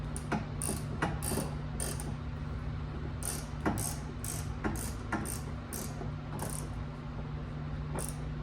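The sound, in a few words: ratchet tightening a plug on a BMW F30 differential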